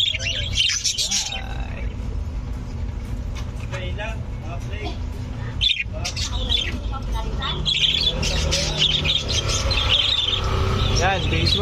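Hagoromo canary breeders in a mini aviary chirp and squawk in scattered bursts. People talk throughout, and faint traffic hums in the background.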